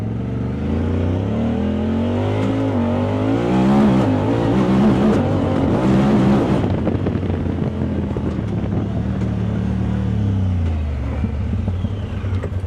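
A tuned Talon car accelerates hard in sport mode, its engine climbing through rising and shifting tones over a continuous loud roar, with wind rushing past the microphone.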